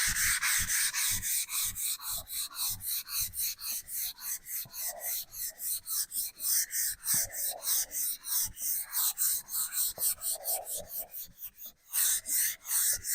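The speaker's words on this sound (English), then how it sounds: "So I'm going to get going with my mask and get this guy smoothed out." Hand sanding of a vintage faux bamboo desk finish, a close, even back-and-forth rhythmic rasp of sandpaper strokes repeating steadily throughout, no talking.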